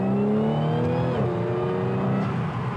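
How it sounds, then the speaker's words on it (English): An Audi car engine revs with a droning intake note, pitch climbing then settling into a steady, loud hum close up. "That intake sounds really good."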